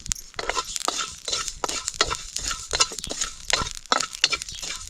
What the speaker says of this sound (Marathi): सोबतच तीळ टाकू तीळ चांगलं फुलेपर्यंत आपल्याला भाजून घ्यायचे आणि जिरं सुद्धा फुलतं